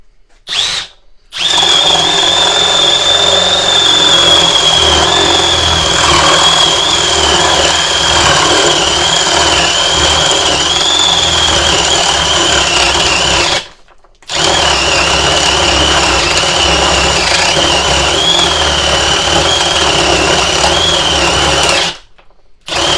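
A Milwaukee M12 FUEL hammer drill on speed 2 bores through wood with a 1 1/2 inch paddle bit, a loud steady motor whine with grinding that runs long, cuts out briefly, then resumes, with no talking.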